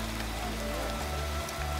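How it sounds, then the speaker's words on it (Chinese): Heavy downpour on a house construction site where a freshly poured concrete ground ring beam is exposed, a dense continuous hiss of rain hitting surfaces, close and uniform with no voices. "现在雨越下越大"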